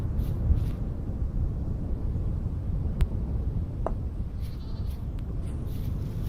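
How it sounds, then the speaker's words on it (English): Goats bleating in the video game Vintage Story, a few faint, short calls over a low rumbling ambient bed, with a couple of sharp clicks scattered through. "Definitely hear goats."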